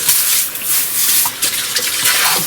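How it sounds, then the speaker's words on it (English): Cold water runs steadily from a kitchen faucet for a few seconds, a close, continuous hissing splash with small shifts as it hits the sink before rinsing eggs; no one speaks. "I'm going to turn my cold water on"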